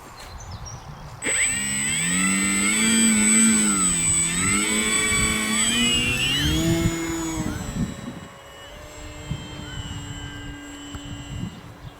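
Mid-pitched whine of an E-flite 1.5m M7 Maule model airplane's electric motor flying overhead outdoors, rising and bending in pitch as it passes, then cutting off to quiet with faint wind.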